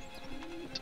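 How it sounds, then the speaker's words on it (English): Horse hooves clopping in the Mount & Blade video game, a quick soft run of game hoofbeats heard close over faint background ambience. "I can hear my horse clop"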